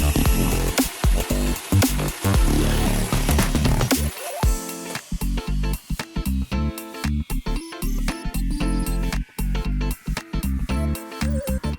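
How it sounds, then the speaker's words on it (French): A hole saw driven by a drill bites into bamboo in loud, grinding bursts. The cutting starts and stops repeatedly with short pauses, and the pitch shifts as the saw works its way through the cane. "La coupe à la scie cloche me permettra de suivre la forme du bambou."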